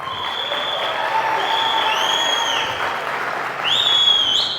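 An audience at a gathering applauds in a steady wash of clapping, with several shrill rising and falling whistles cutting through, strongest near the end.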